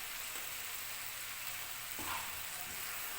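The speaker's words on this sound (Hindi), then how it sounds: "इसमें मैं 3 से 4 चम्मच सिरका ऐड करूँगी" Hot pan sizzles quietly and steadily as vinegar is added while cooking vegetable spaghetti, with a brief brighter hiss rising about two seconds in.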